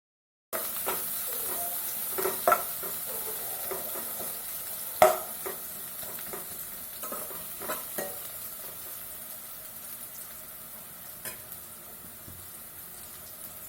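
Onions and two leaves sautéing in a pan for a Tamil mushroom kurma. A soft, continuous sizzle runs under frequent scraping stirs, with a sharper knock about a third of the way in. No one speaks.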